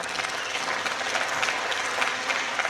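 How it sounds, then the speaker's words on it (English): Steady, dense clapping from a large lecture audience welcoming a speaker to the podium, continuous and fairly loud throughout with no voices standing out. "please join me in a round of applause as we welcome him to the podium"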